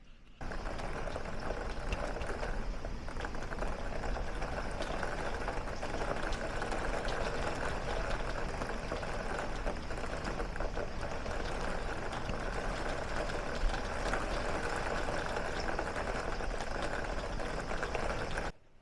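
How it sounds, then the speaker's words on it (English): Heavy rain pours down in a dense, unbroken roar that stays loud and steady throughout, with no voices. "I wanted to show you what it sounds like with the rain."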